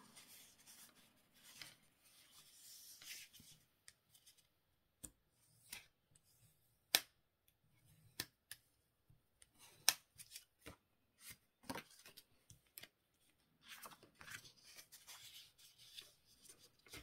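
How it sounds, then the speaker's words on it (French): Paper for a simple mini album is creased and folded with a bone folder, giving soft rubbing and scraping strokes broken by sharp, quiet taps and pauses in a still room, with no talk. "Donc maintenant on va plier tout ça."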